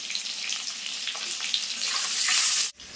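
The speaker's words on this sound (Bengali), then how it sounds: "আর এই সাইডে কিন্তু আলুটাও ভাজা হচ্ছে।" Potatoes seasoned with salt and turmeric frying in hot oil for a Kashmiri aloo dum, giving a steady close sizzle that swells louder toward the end before a sudden brief cut.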